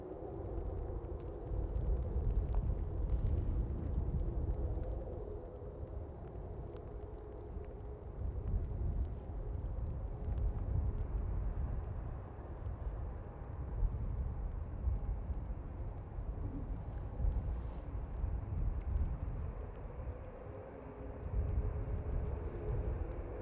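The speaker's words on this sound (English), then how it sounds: "Qatar Flight 24 heading back to Doha, A7BHN 787-9 Dreamliner lined up from Alpha 1 now." Qatar Airways Boeing 787-9 Dreamliner, registration A7BHN, taking off from Manchester Airport on its evening departure to Doha. A steady, broad jet engine roar sounds from a distance for the whole stretch, with wind buffeting the microphone.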